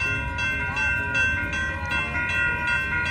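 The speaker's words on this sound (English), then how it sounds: "we gotta wait for the train now" A train rolls steadily past a railway crossing, a loud, sustained rumble of wheels on track with a tonal horn-like hum riding on top, close and continuous.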